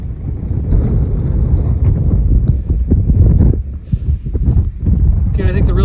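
Wind blowing hard across an exposed ridge in the Saddleback Mountains on the Appalachian Trail: loud, continuous buffeting roar on the microphone with gusty surges throughout.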